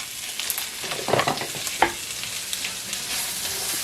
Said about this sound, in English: we're just going to add in all of our apples and our onions